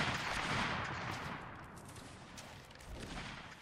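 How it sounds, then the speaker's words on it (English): Rifle fire in the Napoleonic Wars game rolls on as a distant, muffled volley of overlapping musket shots, a steady rumbling crackle without clear single reports. "You're taking flanking fire from the right, from the rifles."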